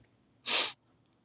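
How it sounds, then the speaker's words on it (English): A single short, sharp nasal burst from a person sniffing, close and brief against quiet background. "I only sniff when I'm here."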